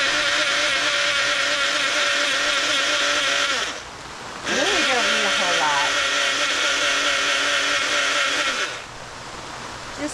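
A blender whirs steadily while making a pumpkin spice latte at a rainy solo campsite, a loud continuous motor drone with a brief pause midway before it runs again, then cuts off near the end.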